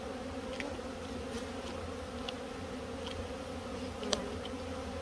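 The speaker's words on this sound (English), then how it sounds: "you want to be careful this time of year going through that colony" Honeybees buzzing in an opened hive during an October hive check, a steady, soft droning hum from many insects with a few faint clicks and a brief knock.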